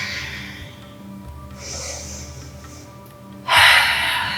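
Deep, slow breaths during a morning power yoga session: a long inhale, a pause, then a loud, forceful exhale near the end, close and clear with no talking.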